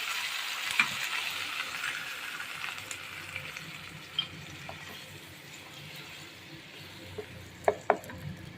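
Cumin, mustard seeds, bay leaf and a spice chutney frying in hot oil for a soybean curry, giving a soft continuous sizzle with a few sharp pops and clinks of a utensil near the end.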